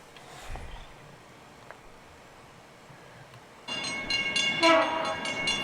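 A train moves through a rail yard beside a fertilizer plant, a faint distant rumble at first, then a loud horn blast with harmonic tones suddenly cuts in partway through and carries to the end.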